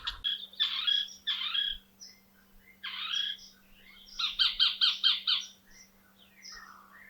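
Harsh, raspy calls of a Sacred Kingfisher near its nest come in bursts, a few single screeches then a rapid run of five or six scratchy notes, fairly close against quiet.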